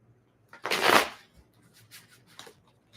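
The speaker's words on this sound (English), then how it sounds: "One more shuffle." A quick riffle of tarot cards being shuffled close by, one short burst followed by a few soft taps and card clicks in a quiet room.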